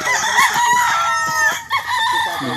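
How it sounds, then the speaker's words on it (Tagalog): Roosters crow loudly and close by in a yard full of chickens in Taguig, one drawn-out crow overlapping clucking from the flock, with a voice briefly audible underneath. "Ang daming manok."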